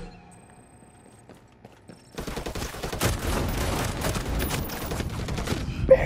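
Gunfire from a Ghost Recon Breakpoint firefight, with a light machine gun among the weapons, breaks in after two quiet seconds and keeps going as sustained rapid bursts. One louder crack lands near the end.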